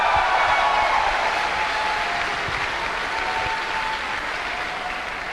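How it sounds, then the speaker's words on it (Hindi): A seminar audience claps loudly and steadily, a dense, sustained wash of applause that fades slightly toward the end, with no talking over it. "एक जोरदार तालियां।"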